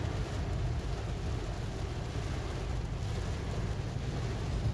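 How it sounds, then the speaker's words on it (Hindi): Heavy torrential rain pours down in Multan, a dense, steady roar of falling water with no break, close and loud, heard without voices. "ये लें जी बारिश"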